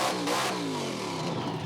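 A car at Summernats does a huge skid, its engine revving hard and loud in a continuous roar with the pitch sweeping downward as it holds the slide.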